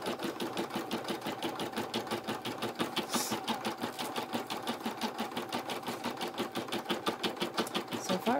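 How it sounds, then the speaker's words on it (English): A sewing machine stitches steadily with a fast, even mechanical clatter of needle strokes, close and continuous throughout. "And now I can sit back and relax for a minute and just watch it stitch."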